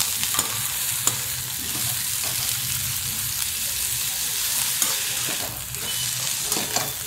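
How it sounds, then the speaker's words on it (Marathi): Capsicum, carrot, cabbage, onion and green chillies stir-frying in oil for cabbage manchurian give a steady close sizzle, with scraping and stirring knocks scattered throughout. "थोडंसं तेल घेतलं, त्याच्यात शिमला मिर्च, अजून गाजर, कोबू, कांदा आणि थोडीशी 2-3 हिरव्या मिरच्या होते ना बारीक केलेले, ते सगळं चांगलं परतून घेतले"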